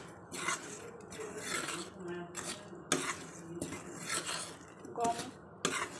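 Sugar being stirred into wheat flour in a pan for wheat laddus, repeated metal spoon scrapes and clinks against the pan at a moderate pace, fairly quiet and close.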